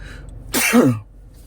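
A single loud, close sneeze from one person, sharp and explosive after a brief intake, over a faint steady hum.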